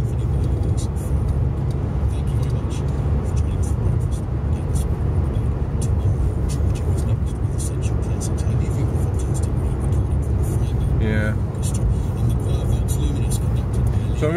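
A car drives along town roads in Cumbernauld, Scotland, near a roundabout, giving a steady low engine and tyre rumble that runs unbroken throughout, with a faint voice at times.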